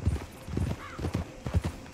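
Steady clip-clop of horse hooves at a brisk trot in the video game Red Dead Redemption 2, close and rhythmic, with a short whinny-like sound partway through.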